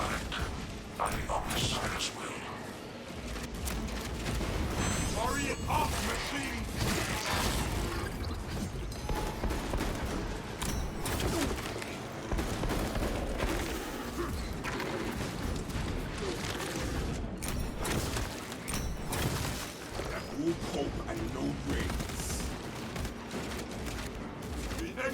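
Rapid pistol gunfire and explosive combat noise from the Space Marine 2 video game, dense repeated shots and booms sustained throughout under loud battle mechanisms.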